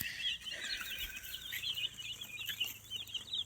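Young chicks chirping beside their newly built coop, a continuous cluster of high, rapid peeps from several birds close by with no talking.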